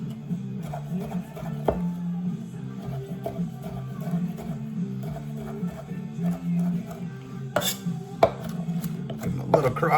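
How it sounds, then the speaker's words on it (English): A knife chops slices of uncured smoked bacon on a cutting board, giving steady, close, rhythmic knocks throughout with a few sharper impacts toward the end. "we got a few slices of my the uncured smoked bacon that I did, and we're just going to chop these up as well"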